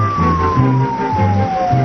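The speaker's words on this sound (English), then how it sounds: "A police car speeding past with its lights flashing and its siren wailing" A 1970s Kansas City police car siren wails loudly in repeating rising and falling tones, with a steady higher tone sliding slightly downward as the speeding car passes close by.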